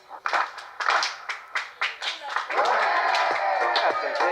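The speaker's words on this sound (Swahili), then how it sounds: "makofi" Audience at a youth agribusiness competition clapping: a few scattered, separate claps at first, then building into continuous, loud applause from a crowd.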